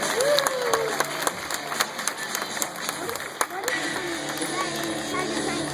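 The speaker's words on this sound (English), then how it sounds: "how about a round of applause for Maxim?" Audience applause and scattered cheers at an outdoor tiger show as a tiger climbs out of a pool, with a few children's voices and a presenter's speech mixed in over the clapping.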